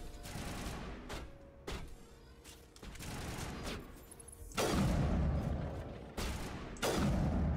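Shotgun blasts from the Mass Effect video game ring out in a series of heavy, booming shots at irregular intervals, several loud reports with short decaying tails amid game ambience.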